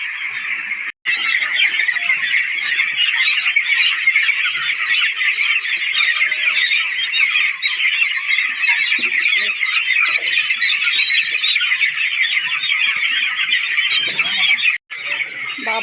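Dense, continuous squawking and clucking from a large flock of poultry chickens on a poultry farm, loud and close, filling the whole stretch with only two brief gaps.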